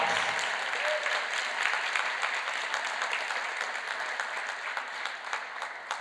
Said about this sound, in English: One more huge round of applause for your finalist, Nada Abbas.